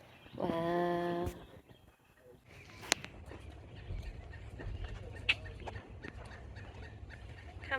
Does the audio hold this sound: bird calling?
yes